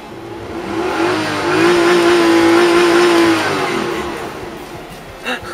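A small Daihatsu Mira e:s engine revs up under hard acceleration, holds a steady droning tone, then fades as it slows, with a faint voice near the end.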